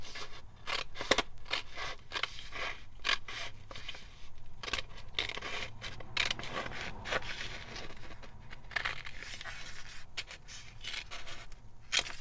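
Scissors snipping through printed tissue paper with lace-covered tape, quick crisp cuts in irregular bursts, close and fairly quiet with no talking.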